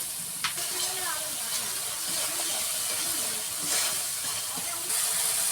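Spice paste of turmeric and ground spices being lightly fried in a pan in a village kitchen, giving a steady close sizzle and hiss with a few soft stirring scrapes throughout.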